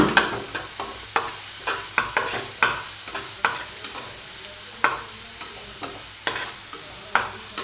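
A mixture with turmeric powder stirred in a pan, a spoon scraping in a steady run of sharp repeated strokes over a light sizzle, close and distinct, with no talking.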